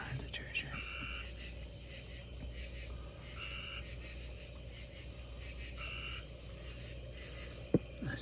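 Tree frogs croak in a steady outdoor chorus near a pond, repeated raspy calls blending with insect hum, fairly faint and continuous, with soft whispering voices in the background.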